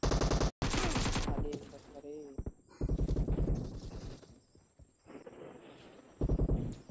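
Gunfire in an online multiplayer shooting game, a loud burst of shots at the start followed by further rapid firing, with a player talking over it.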